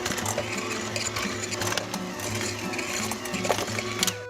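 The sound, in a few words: mixer beating cream cheese, sugar and cocoa powder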